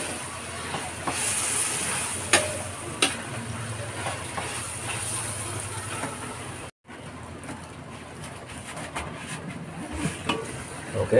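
Pork pieces sizzling and hissing in a hot pan for chicken and pork apritada, a steady broad frying hiss with occasional clatter, close and alone with no talk.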